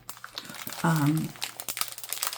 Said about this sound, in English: Crinkling again, sorry.